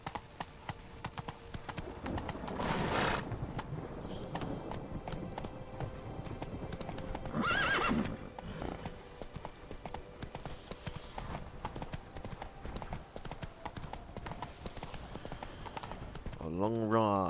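Steady clip-clop of a horse's hooves during a long ride in The Witcher 3: Blood & Wine, rhythmic and close throughout, layered with game ambience and a brief whinny, while someone talks over it.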